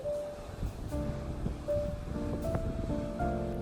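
Steady wind gusts over surf on a protected beach along the Big Sur stretch of the California coast, a continuous rushing roar with faint tonal hums and distant calls mixed in, no speech.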